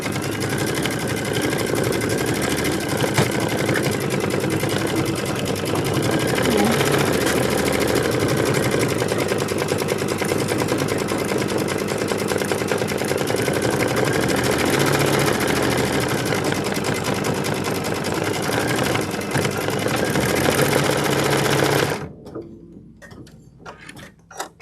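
A sewing machine stitches a quilted wall hanging in a steady, fast mechanical whir with rattling gear and needle clatter, running loud and unbroken for over twenty seconds before stopping abruptly, followed by a few faint clicks.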